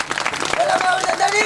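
Applause from the audience at a Gujarati community unity rally, a dense wash of hands clapping that runs steadily and fairly loud with murmuring voices mixed underneath.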